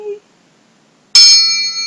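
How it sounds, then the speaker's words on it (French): A single bell is struck once for a children's nursery rhyme, ringing out bright and clear after a brief low sung note and a pause, then fading slowly. "La cloche a sonné"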